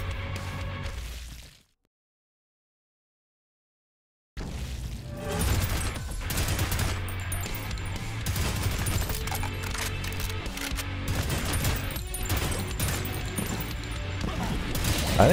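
Shooting in the video game Prodeus: loud, busy gunfire and crashing impacts, cut by a stretch of complete silence early on, then resuming as a dense, continuous barrage of shots and blasts.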